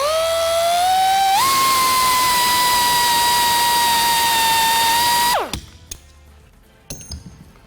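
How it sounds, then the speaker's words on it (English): A power drill whines steadily at high speed while drilling out rivets on a Chevy or GMC truck vent window channel, pitch stepping up once, then cutting off abruptly, followed by a few faint clinks and taps. "you can see those came right out once you drill them a little bit"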